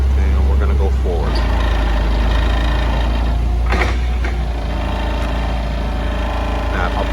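A sit-down forklift drives forward with a steady, loud engine drone and low rumble throughout, plus a few brief clanks and knocks.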